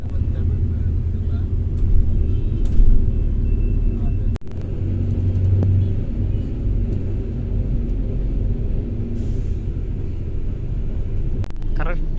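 A VEE VEE AC seater-sleeper bus travelling from Chennai to Nagercoil rumbles along with a steady low engine drone and road noise from inside the cabin, broken by a sharp knock and a few brief clicks.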